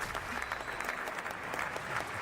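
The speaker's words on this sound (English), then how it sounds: "we gotta replace that with an applause" Steady applause from a group, even clapping with no breaks, moderately loud and sustained.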